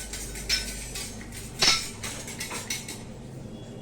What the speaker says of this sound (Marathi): हे बघा आता हे तिळ मस्तपैकी भाजून घेणार